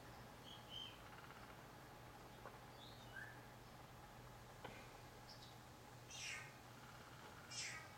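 A faint, meow-like call repeats a few times in the background, a bird mimicking a cat, over a low steady hum.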